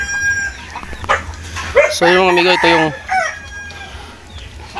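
Chickens cluck and a rooster crows loudly nearby in a backyard flock in Antipolo, while someone talks over the birds.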